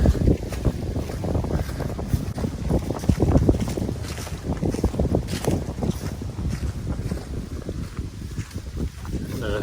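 Strong wind on an exposed Virginia mountain ridge line buffets the microphone in gusty, rumbling blasts, loud and constant, with faint rustling underneath.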